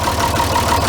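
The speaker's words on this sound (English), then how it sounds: "Just idling, and you hear that surge." A John Deere 4010 tractor engine idles steadily, a continuous mid-low rumble with a faint repeating pulse, close and alone.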